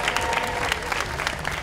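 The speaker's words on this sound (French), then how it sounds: "on applaudit" An audience breaks into brief, steady applause, dense clapping that fills the moment without any talk over it.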